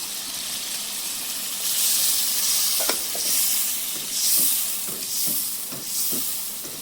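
Water poured into a hot pan of gravy for a sea fish curry sends up a steamy hiss and bubbling sizzle, while a spoon scrapes and knocks in repeated stirring strokes nearby.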